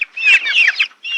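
Chicken clucking from a farm bird, a close, continuous stretch of bright, rapid clucks with a short break before a final burst, no voices present.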